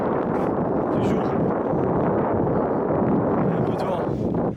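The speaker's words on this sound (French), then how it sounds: "Il y a un peu de vent." Loud wind buffeting the microphone on a mountain in the Mercantour, in continuous low rumbling gusts, with a voice faintly audible underneath.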